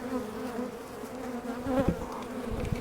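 Honey bees buzz around hive frames during a swarm transfer, a soft close drone of many wings that rises briefly as individual bees pass near.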